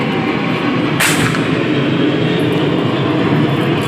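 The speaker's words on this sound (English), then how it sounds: "as soon as I start recording, that's when a plane decides to fly over us" A plane passes overhead outdoors beside a Subaru under repair, a steady broad roar that fills the whole stretch at constant loudness, with a brief bright burst of noise near the start and no talking.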